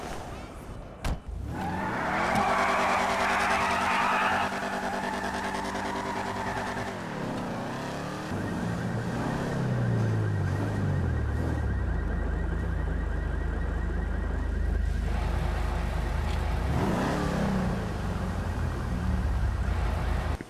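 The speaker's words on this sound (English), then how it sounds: "We're gonna get into my car." A car starting up and driving, with a steady engine drone that rises and shifts as it accelerates, heard from close by inside or near the vehicle, with occasional beeps and background noise.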